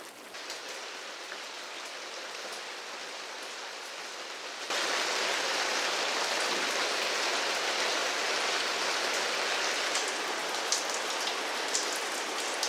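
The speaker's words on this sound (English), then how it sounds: "Suddenly, heavy storms arrive, and the mountain home faces a massive test." Heavy storm rain pours down on a mountain home dug into rock, a dense continuous hiss that swells even louder partway through, close and steady with no voices.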